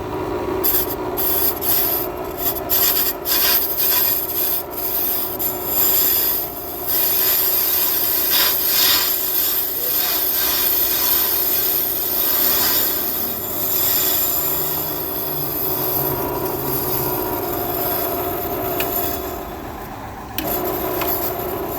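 A brake drum turns on a lathe during a slow finishing cut, giving a continuous loud grinding, rasping scrape with a steady ringing metallic tone that carries on alone throughout.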